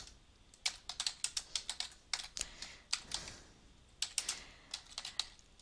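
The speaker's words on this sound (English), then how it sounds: "So you can type in the resource name," Quick bursts of typing on a computer keyboard, close and fairly quiet, with uneven clusters of key clicks and short pauses between words and no talking.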